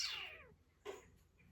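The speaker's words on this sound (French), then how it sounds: "mon chat il joue, puis ça fait du bruit" A cat playing in a room lets out a faint, drawn-out meow with a falling pitch, followed by a short second chirp-like call, both soft and slightly distant in a quiet indoor space.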